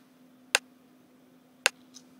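Rim shot drum sample brightened with extra upper-mid EQ, two crisp isolated clicks about a second apart followed by a faint tick, dry and close over low hum.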